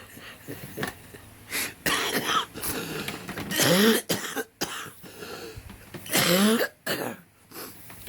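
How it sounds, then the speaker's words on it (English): Repeated harsh coughs and throat clearing come in bursts with short pauses between them, close and loud, with wheezy breaths in between. "Humor makes me cough."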